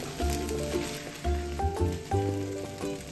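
Eggs fry in a pan with a close, steady sizzle that swells and fades in short waves, broken by light stirring scrapes, with no talking.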